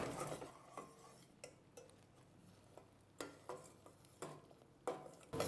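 Melted jaggery and ghee stirred in a pan, a steady run of scraping, clinking spoon strokes at close range with a soft sizzle beneath, no voices.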